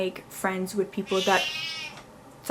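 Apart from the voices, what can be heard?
cat meowing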